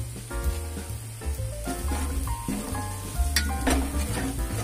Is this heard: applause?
no